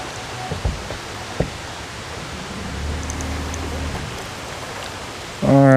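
Steady rain hisses down around a fishing boat on open water, a close, even wash of noise with a few faint knocks and no voices.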